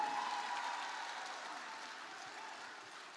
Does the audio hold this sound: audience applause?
yes